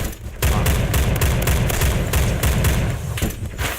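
A Saiga-12 shotgun is hip-fired in rapid succession in a Roblox-style shooter game, a loud, close barrage of booming blasts that runs nearly continuously with brief uneven gaps.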